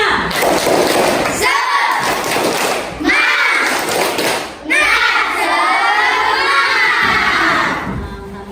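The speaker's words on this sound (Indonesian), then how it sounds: "kita tepuk semangat dulu, ya" A classroom of children chants and shouts together while beating out a spirit clap with thumping hand claps, their voices loud and close, rising and falling in bursts over about eight seconds.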